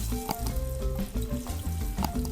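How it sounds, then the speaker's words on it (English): Steady sizzling and bubbling of potatoes frying in hot oil, continuous and close, with faint clinks and stirring sounds mixed in. "The oil is ready, so I start frying right away."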